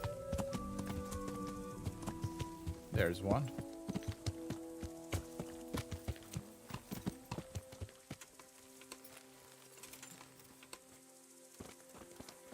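Horse hooves clip-clop steadily in the medieval video game Kingdom Come: Deliverance, a close, even rhythm of hoof strikes on a ground path throughout, with a brief spoken remark partway through.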